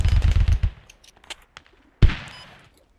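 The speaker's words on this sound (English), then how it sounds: "We're taking heavy mortar fire." Mortar fire in the tactical shooter Squad: a rapid cluster of gunfire-like cracks, a few scattered pops, then one loud, heavy blast that rolls off into a fading tail.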